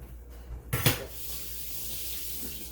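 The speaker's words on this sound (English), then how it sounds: "Wash my hand real quick." Tap water runs briefly into a kitchen sink for a quick hand wash, with a short splashing burst near the start settling into a soft, steady stream.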